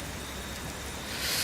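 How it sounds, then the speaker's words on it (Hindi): Heavy rain falls as a soft, steady hiss, faint and distant, with a slight swell at the end and no voices. "घनी बारिश होने लगी ताऊ"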